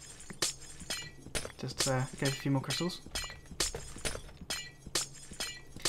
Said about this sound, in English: they're making the sound of glowstone smashing